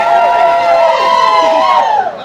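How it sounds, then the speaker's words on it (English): A crowd at a Halloween masquerade poetry night cheers and whoops loudly and continuously, a dense wash of voices close by that holds for a couple of seconds before dipping slightly at the end. "I can tell I'm gonna like this crowd."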